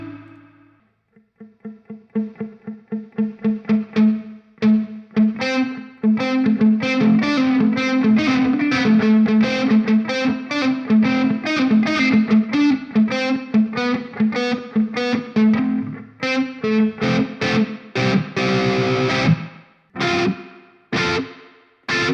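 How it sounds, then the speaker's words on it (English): Electric guitar through a spring reverb effect in ToneLib Metal amp-sim software, with distortion: a steady run of picked chords and notes for most of the stretch, then sparser stabs near the end with reverb tails ringing after each, played alone. "it sounds like a spring reverb, but to me, it sounds a little bit artificial compared to a real spring reverb"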